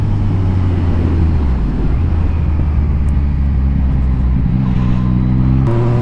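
Yamaha MT-09 motorcycle engine pulling hard under acceleration, a loud, continuous, rising engine drone with a brief dip as it shifts gear, then climbing again, close and dominant throughout.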